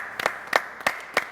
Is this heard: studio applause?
yes